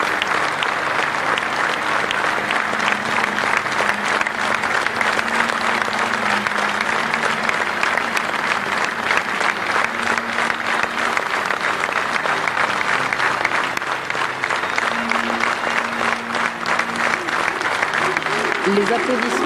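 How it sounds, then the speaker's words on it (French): Large crowd outside a cathedral breaks into sustained applause as a coffin is carried out, a thick continuous clapping texture lasting nearly twenty seconds, with faint voices and calls mixed in beneath it. "des applaudissements au moment où le cercueil franchit l'œil de cette cathédrale"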